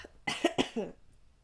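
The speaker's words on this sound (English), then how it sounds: "I don't mean to cough." A few quick coughs close to the mic, three or four sharp bursts in a row, then quiet.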